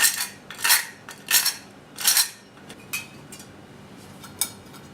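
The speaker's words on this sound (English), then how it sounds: "Mixing it together" Sugar, freshly ground cinnamon, a pinch of allspice and freshly grated nutmeg are mixed in a bowl for an apple pie filling, with about five loud clinking utensil strokes against the dish followed by softer, sparser taps.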